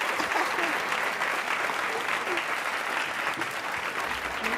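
A live comedy audience gives a stand-up comedian a sustained round of applause, a thick, even roar of many hands clapping with a voice briefly audible beneath it.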